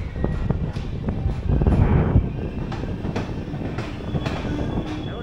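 The Howrah Puri Superfast Express leaving Bhadrak station, with rumbling wheels and rhythmic clicks of rail joints heard from on board.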